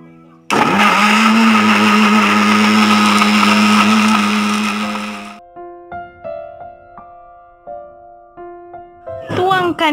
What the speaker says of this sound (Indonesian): Sekarang masukkan juga ketumbar, lalu tuangkan air, lalu siap untuk kita blender.